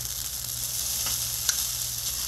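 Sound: shrimp sauce bubbling on Blackstone griddle

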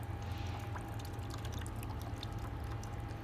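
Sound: water draining from a squeezed root pouch

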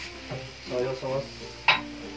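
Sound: stirring chili sauce, vinegar and soy sauce in pan

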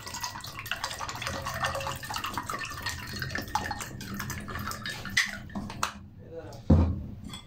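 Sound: mixing sharbat with a utensil

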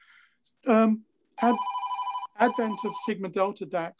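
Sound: telephone ringing

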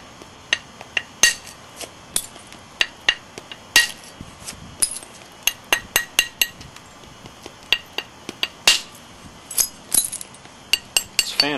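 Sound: flintknapping, striking thinning flakes off a stone slab

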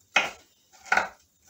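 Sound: chopping fresh fried bacon with a knife

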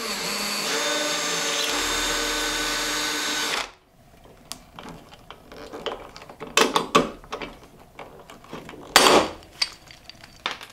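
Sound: drilling a hole in scrap metal for stove latch

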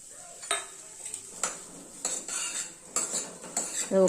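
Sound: sautéing vegetables in a pan

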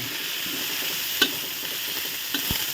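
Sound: ground pork added to a pan and stir-fried

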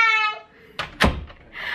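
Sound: door closing

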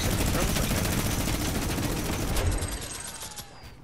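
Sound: minigun firing in a video game

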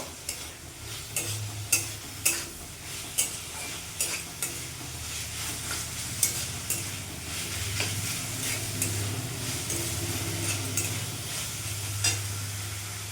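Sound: stirring banana flower curry with ginger-cumin paste in pan

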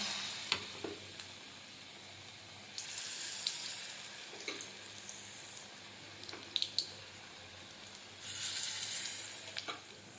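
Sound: batter-dipped pointed gourd frying in hot oil in a wok

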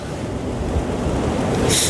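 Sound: sea waves at a fishing spot

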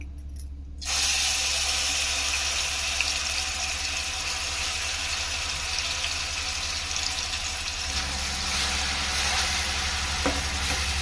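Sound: onion frying in oil in a wide pan

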